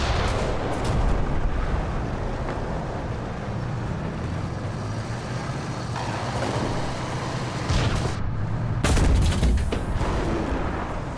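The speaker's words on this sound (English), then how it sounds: "our APDS round doesn't do a lot of damage. Now, it was a pretty poor shot." A heavy British Conqueror tank cannon fires an APDS round in War Thunder, giving sharp booms over a constant rumbling engine and battle noise, with one shot standing out clearly near the end.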